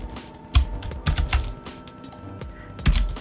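Computer keyboard keys pressed in short bursts while working in Adobe XD, a few sharp close clicks with pauses between, no voices.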